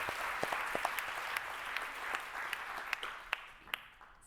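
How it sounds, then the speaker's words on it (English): Audience applause after a talk at a nature-based solutions conference, a soft, moderately distant patter of many hands with a few sharper individual claps standing out, fading gently near the close. "a round of applause again for Elizabeth"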